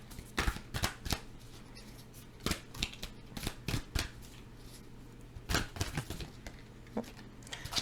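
A deck of tarot cards is shuffled close by in repeated bursts of crisp riffling and slapping, uneven in rhythm with short pauses between, with no talk.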